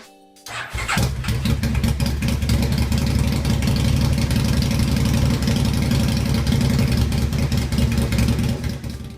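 A Postman Pat toy van rebuilt as a drag racer with racing wheels, special tyres and a four-stroke 500cc engine starts with a sharp catch, then runs loud and close with a rapid, steady, buzzing idle throughout.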